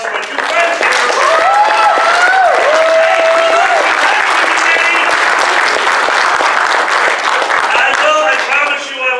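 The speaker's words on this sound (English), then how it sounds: "let's give a huge round of applause for my two friends here" Sustained audience applause at an IFC 2017 Monkey Knife Fights event, dense and loud throughout, with a voice talking over the clapping.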